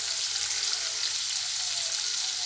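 Carrots and other vegetables stir-frying in a pan give off a dense, bright, continuous sizzle, close and steady throughout with no voices.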